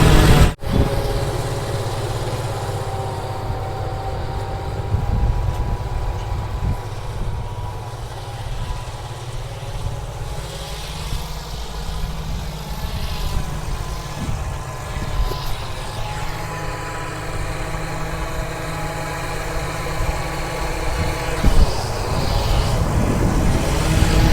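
A heavy tractor engine idles steadily and loudly nearby, a continuous low rumble with a few brief bumps, and no talking over it.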